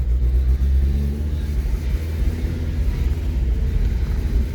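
An old car engine idles and revs with a rough, uneven rumble, loud and close throughout, smoothing slightly at higher revs.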